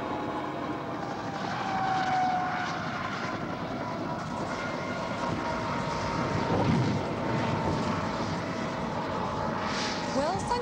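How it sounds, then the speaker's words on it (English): A helicopter descends in autorotation after a simulated engine failure, its rotor and airframe noise a steady loud drone heard from inside the cabin, with people talking over it. "We're dropping so fast, the upward airflow is speeding up the rotor blades."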